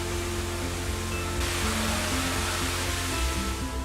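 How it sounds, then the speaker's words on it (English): Cascada Los Tilos, a waterfall in the rainforest of northern La Palma, roars as a steady, dense rush of falling water, loud and unbroken from start to finish. "This is the Cascada Los Tilos, which means the Linden's waterfall."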